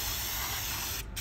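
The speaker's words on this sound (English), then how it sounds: "Let's just spray it inside." A steady aerosol spray of brake cleaner hisses continuously into a PC, close and fairly loud, cutting off briefly near the end.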